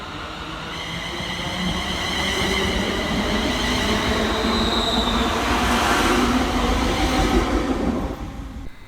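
A ScotRail Class 380 electric train rumbles through Paisley Gilmour Street station with steady, loud wheel and motor roar, faint high squeals running across it, swelling and then fading near the end.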